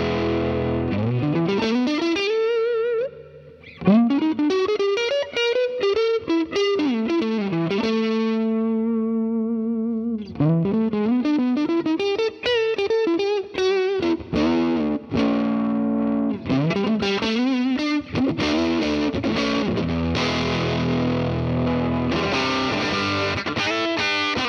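An electric guitar played through the Vox amp model of an Atomic Amplifire sounds distorted and effect-laden, with strummed chords and riffs, a sustained ringing chord in the middle and no talking.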